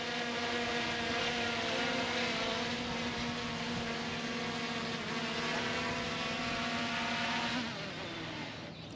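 Small camera drone flying on Christmas Day with a fault, its steady propeller whine holding loud and close with strong harmonic tones, then dipping and shifting pitch near the end.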